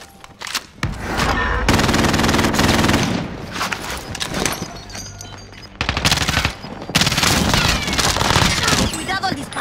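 Dense bursts of rapid automatic gunfire and heavy shooting fill a prison-themed battle royale video game, loud and sustained with brief gaps, while voices talk over the action.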